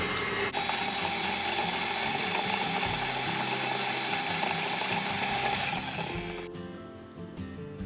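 A stand mixer runs steadily, combining molasses and other wet ingredients for gingerbread cookies with a dense, constant whirring hum that drops and changes near the end, close and fairly loud with no talking.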